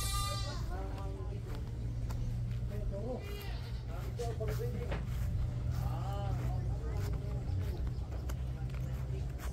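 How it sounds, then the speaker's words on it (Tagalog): A goat bleats repeatedly in quivering calls on a farm, mixed with people talking and a low engine rumble in the background. "there is a goat, guys"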